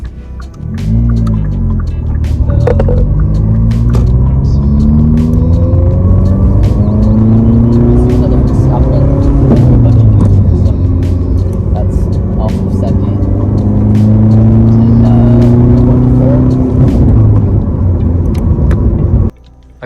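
A manual-transmission car engine pulls away as the clutch is released and throttle applied, its loud, close hum rising and falling in pitch across several revs, steady throughout, then cutting off abruptly at the end.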